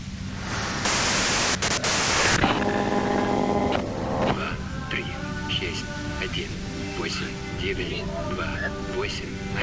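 Harsh broadband radio static from the video game Disco Elysium, a loud hiss for a couple of seconds that gives way to warbling tones and garbled radio voices.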